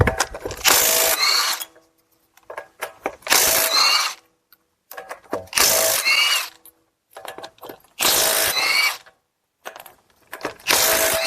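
A power ratchet spins 22 mm lug nuts off the front wheel of a Dodge Durango RT, firing in five loud, close bursts of whirring and clattering with short quiet gaps between them.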